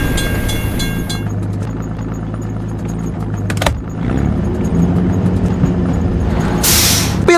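Train rolling past a closed level crossing in a children's construction-vehicle video game, a steady low rumble with clanking carriage sounds and a brief bright burst near the end, with no talk.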